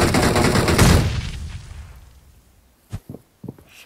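A video game grenade explosion in PUBG Mobile: a heavy, booming blast that rolls and fades over a couple of seconds, followed by a few sharp, short cracks.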